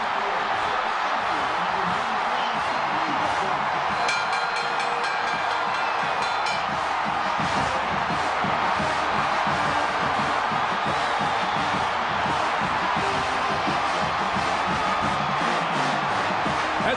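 A football stadium crowd roars after a safety gives the Texas Tech Red Raiders a 2-0 lead, a loud sustained wall of cheering and whoops throughout, with an announcer talking over it.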